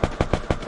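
Four rapid gunshots crack in a regular rhythm from a shooting video game, loud and close with no talk over them.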